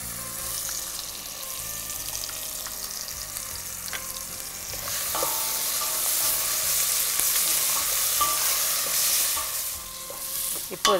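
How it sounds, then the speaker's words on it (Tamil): Ginger-garlic paste sautéing in a pan, with a continuous hissing sizzle and busy spatula stirring and scraping, close and fairly loud throughout with no voices, the frying growing a little louder partway through. "இப்போ இது வதங்கிட்டுருக்கு இல்லையா,"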